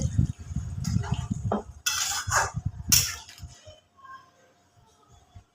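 A spoon stirs an egg and soya curry in a pot, making loud scraping and clanking strokes for about three seconds before the sound fades to quiet, faint clinks.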